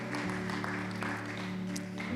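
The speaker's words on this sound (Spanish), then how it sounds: "Démosle un aplauso a la palabra" A church congregation claps briefly after the preaching, a soft wash of applause that stays fairly quiet over a sustained musical drone, with no talking.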